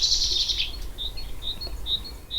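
Birds chirp in a sunny home garden with no-dig mulch beds: a bright burst of song at the start, then short repeated chirps at regular intervals over a low outdoor hum.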